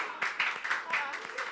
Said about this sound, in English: Oh, you need to clap for it.